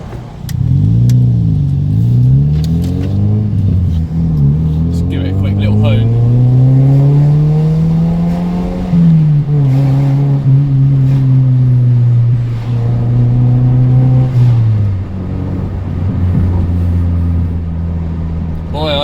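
A loud Audi engine revs and climbs through the gears, pitch rising and falling steadily, close up and continuous.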